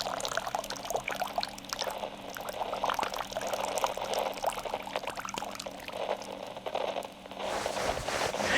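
Water sloshes in a soaking bowl as hooves are lifted out, a close, continuous wet splashing and trickling that stays at a steady level for about eight seconds and dips briefly near the end, with no talking.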